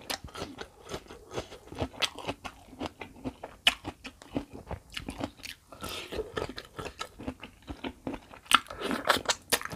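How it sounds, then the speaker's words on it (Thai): Crunchy chewing and biting of Thai pounded salad with fresh rice noodles, shrimp and crisp raw vegetables, close to the mic, with rapid irregular crackly bites repeating throughout and no talk. "นี่ล่ะกินตำขนมเส้น"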